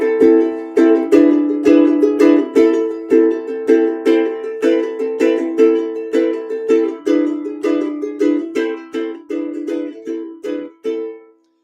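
A ukulele played with a split stroke gives a bright, syncopated strumming rhythm of quick repeated chord strokes, loud and close, with no voices.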